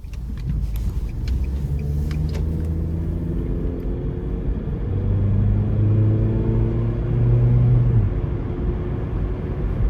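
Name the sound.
2009 Nissan Versa 1.8S hatchback driving on road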